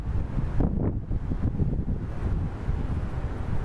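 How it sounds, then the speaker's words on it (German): Strong gusty wind buffets the microphone at the top of a blast furnace at a former steelworks, a continuous loud low roar with surging gusts and no other sounds. "Aber es ist ganz schön windig."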